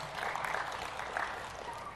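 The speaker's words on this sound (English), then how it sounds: "Tiny, tiny applause." Brief, light applause from a small audience at a technical talk, a thin patter of claps lasting a couple of seconds at steady level.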